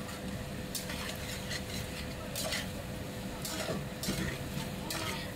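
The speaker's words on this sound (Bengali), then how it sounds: "দেখো চিকেনের সাথে খুব সুন্দরভাবে কষিয়ে নিলাম।" Chicken kosha being stir-fried in a pan makes a quiet, steady sizzle, with repeated scraping and stirring clicks of a spoon against the metal at close range.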